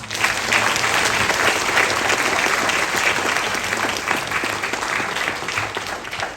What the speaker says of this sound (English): give a warm welcome and a big round of applause to the manager and conductor of the Blue Skirt Youth Orchestra, Tanya Phillips